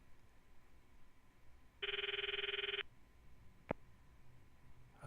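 A phone rings in the Steins;Gate video game, one electronic ringtone burst of about a second over quiet background, followed by a short sharp click.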